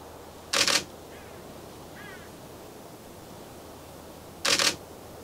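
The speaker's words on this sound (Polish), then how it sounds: "żeby powoli ptaki przyzwyczajać, że będzie hałas migawki, jak zacznę używać Nikona D500" Two crisp bursts of a Nikon D500 DSLR shutter firing from a bird hide, spaced a few seconds apart, each loud and close against a quiet outdoor background with faint bird calls.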